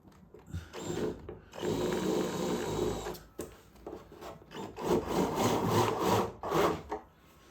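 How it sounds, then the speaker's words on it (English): A power drill drives self-tapping wood screws into a fitted five-shelf DVD unit, giving repeated grinding, whirring bursts of a few seconds each with short pauses between them, close and fairly loud. "So I'm going to grab a drill."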